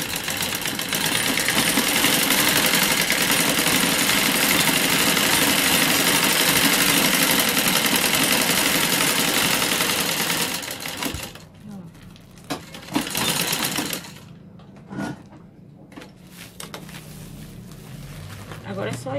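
A sewing machine hems a rug made from plastic bags, running in a loud, steady whir for about ten seconds before stopping, followed by lighter handling noises and brief clicks.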